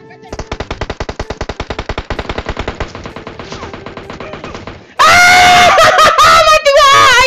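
Rapid automatic gunfire from the PUBG Mobile game rattles out in a fast, even burst, then breaks into loud screaming and excited shouting that overlaps the shots.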